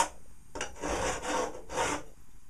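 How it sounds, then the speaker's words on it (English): A medium-cut dreadnought metal file smooths frayed edges, heard as three or four close, raspy forward strokes in a steady rhythm with short pauses between them, with no talking. "I'm cleaning off the frays with a file, but the file I'm using is a dreadnought file."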